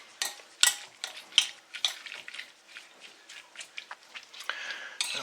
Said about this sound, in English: Just slowly mix that around. Just try and keep getting the onions coated.